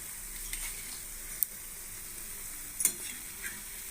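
Minapa garelu, urad dal fritters, sizzle in hot oil with a constant soft hiss and a couple of small metallic taps from turning them, close and moderately quiet.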